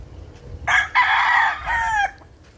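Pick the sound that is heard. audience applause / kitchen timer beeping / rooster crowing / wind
rooster crowing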